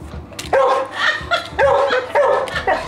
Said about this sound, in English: Like, you can tell she's yelling and barking at me.